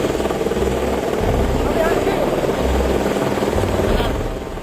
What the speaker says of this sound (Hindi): जैसे ही सेना का हेलीकॉप्टर गोविंद घाट पहुंचता है